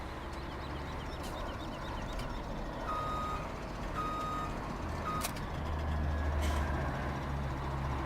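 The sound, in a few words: truck reversing beeps while hooking up trailer, Farming Simulator 17 video game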